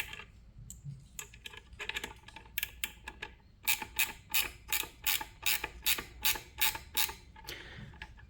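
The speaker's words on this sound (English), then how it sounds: "Now as I'm tightening with this ratchet spanner, I'm not wanting to hit the headers" A ratchet spanner tightens a bolt while fitting a horn on a Honda Rebel motorcycle, giving a run of close, sharp clicking strokes in quick rhythmic bursts, with sparser clicks at first and no talking.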